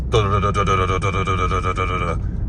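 A voice imitates an Audi Q5's Brembo four-piston brakes thumping, a steady series of pulsing vocal beats lasting about two seconds, close and fairly loud.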